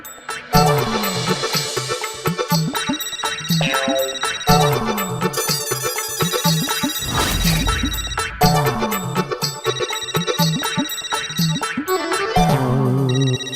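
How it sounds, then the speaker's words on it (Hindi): A musical phone ringtone plays loudly and continuously, a repeating electronic melody with a bouncy bass line and no talking. "चिंटू क्यों फोन कर रहा है मुझे?"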